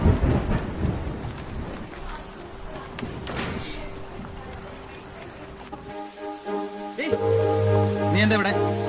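Heavy monsoon rain falls in Kerala as a steady hiss with rumbling thunder, then the sound shifts near the end into a sustained tonal hum.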